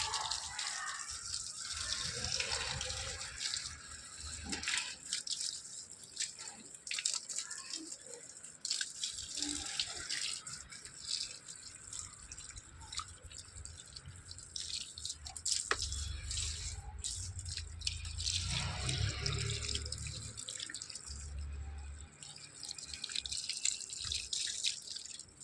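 Water is poured in a continuous splashing stream with scattered drips and gushes, close and fairly quiet, with no talking.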